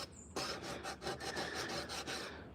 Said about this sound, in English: carve this, or sand this spoon down a little bit